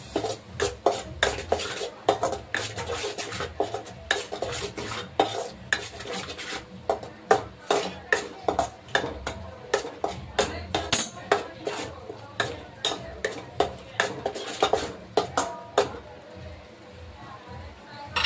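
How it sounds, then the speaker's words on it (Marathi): A spoon scrapes and clatters against a pan while okra bhaji is stirred, sharp irregular strokes repeating steadily at close range, with occasional softer rubbing between them. "व्यवस्थित मिक्स करून घेऊया."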